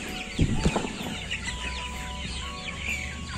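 Free-range KUB chickens clucking at feeding time, several birds making soft overlapping clucks and chirps close by, with a couple of louder bursts near the start.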